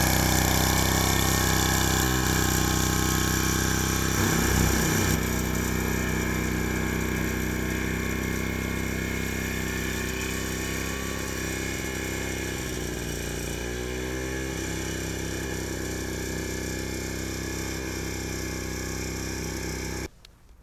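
An AS Motor AS 63 high-grass mower runs steadily, its engine drone loud and constant while it cuts grass, with faint swishing and thumps over the motor until it suddenly stops at the end.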